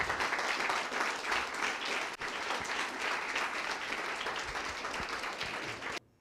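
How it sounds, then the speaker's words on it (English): Sustained audience applause fills a demo day event at a startup venue, a dense wash of many hands clapping at steady loudness for about six seconds before cutting off abruptly. "So big round of applause for Christian here, Gate Garching."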